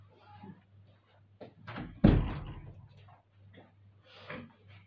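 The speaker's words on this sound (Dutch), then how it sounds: "ik doe even de deur dicht hoor" A door is pushed shut indoors with one solid thud midway, set among soft background speech and small room noises before and after.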